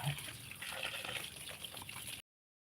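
Water pours onto a newly planted Lemonsito tree in its soil, a faint, steady splashing and trickling that runs for about two seconds and then stops abruptly.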